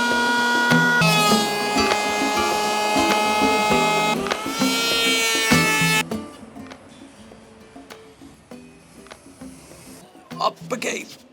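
A router fitted with a vacuum cuts a shallow pass into wood for an arcade cabinet base, a loud, steady whining drone that cuts off halfway, followed by quieter handling clicks and knocks.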